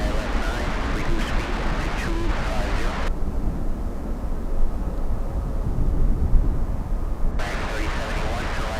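Finnair airliner at Miami International Airport, a loud, steady roar of jet engines that continues throughout with a rumbling low end, faint distant traffic noise around it.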